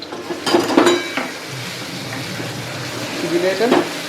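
Banana flower curry sizzles and clatters in a pan as it is stirred, with a few sharp scraping strokes standing out over a soft frying hiss.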